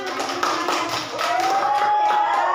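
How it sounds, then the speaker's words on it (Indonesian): Children in a classroom clap their hands together in a quick, dense burst of applause, fairly loud and close, with some noisy chatter and a high whistling tone underneath. "Tepuk tangan."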